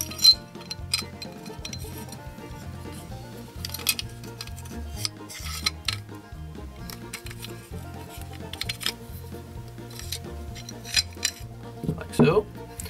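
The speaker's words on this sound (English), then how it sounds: "So just for the safety that nothing gets caught on each of them, I'm gonna remove the barrel." Metal parts of an airsoft gun and a real steel gun clink and click as the barrel is taken out, a series of light, close knocks and rattles with faint background music.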